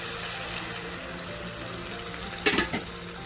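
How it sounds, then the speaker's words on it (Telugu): Onion paste ground in a mixer, with green chillies, frying in oil in a pan for a rajma curry, a steady soft sizzle with a brief louder clatter near the end. "ఇప్పుడు ప్యాన్ పెట్టి ఆయిల్ వేసాను కదా, ఈ మిక్సీ పట్టుకున్న ఉల్లిగడ్డ అండి"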